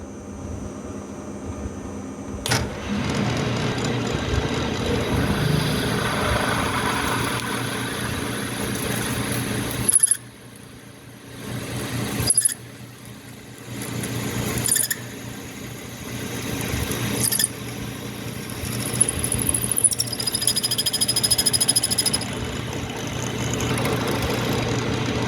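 A Kearney & Trecker milling machine cutting aluminum at about 700 RPM, a loud steady motor drone with a whining cut that repeatedly drops out and returns as the cutter engages and pauses.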